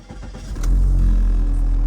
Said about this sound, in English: when I start the car